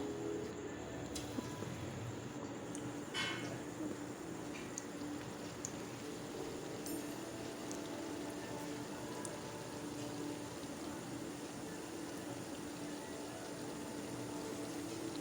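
Bora fritters fry in oil over a low gas flame with a steady, soft sizzle. Occasional small pops and crackles run through it, close by and unbroken, with no talking.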